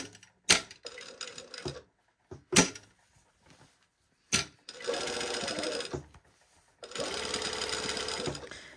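A sewing machine stitches a white summer sweater top. Several short taps come first, then two longer steady runs of stitching with pauses between, close and fairly quiet.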